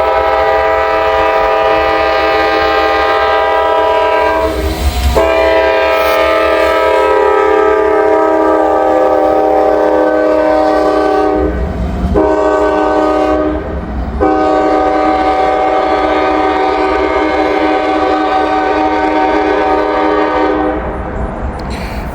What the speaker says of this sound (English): we got an NS train coming downhill